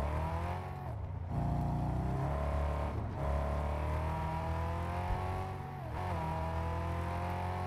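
A heavy, fast car in the video game Mad Max roars steadily under acceleration, its engine note climbing and dipping through several gear shifts, loud and continuous with no talk.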